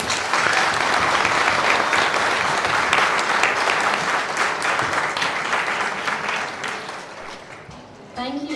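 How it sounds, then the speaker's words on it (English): An audience at the British Hazara Awards ceremony in Birmingham gives sustained, loud applause to the Hazara Committee UK, a thick wall of clapping that fades near the end before a voice speaks. "So a round of applause for the Hazara Committee UK"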